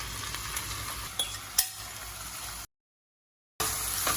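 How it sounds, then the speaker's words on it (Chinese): Onions stir-fried with butter in a reused pan, a close steady sizzle with a couple of spatula scrapes and clinks, broken by about a second of total silence before the sizzling resumes, no talking. "就利用刚刚的锅子继续来炒洋葱"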